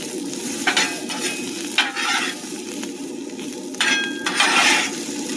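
Onion and vegetables frying on a hibachi grill, a steady close sizzle punctuated by several bursts of scraping and stirring with faint metallic clinks, fairly loud and with no talking.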